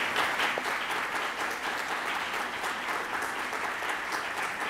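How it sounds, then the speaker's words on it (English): Steady applause from an audience, a dense, even wash of clapping that continues for several seconds without voices. "Give them a applause."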